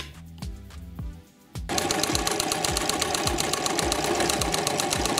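A sewing machine stitching an elastic stitch on knit fabric: a few slow separate needle thumps, a brief pause, then a steady fast loud mechanical whirring rhythm up close.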